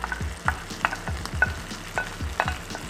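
Corn tossed into a pan of rendered bacon fat sizzles steadily, with rhythmic scraping and stirring strokes about every half second, close and clear with no voices.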